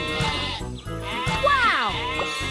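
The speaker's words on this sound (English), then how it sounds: "Sheep have wandered onto the tracks." Sheep on train tracks in a Thomas the Train video game give several short, near bleats amid bright cartoon game music and sound effects.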